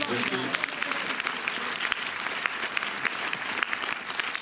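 Cinema audience at a film screening and meet-up in Montreuil applauding, dense steady clapping with sharp individual claps, moderately distant and continuous throughout.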